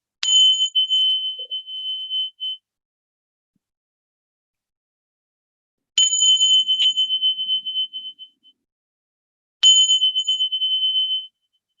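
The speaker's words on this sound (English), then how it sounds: "I'm going to ring one of these bells just because it's been so long." A meditation retreat bell is struck three times, each clear metallic strike ringing out with a long, sustained tone that slowly fades, alone in otherwise silent surroundings.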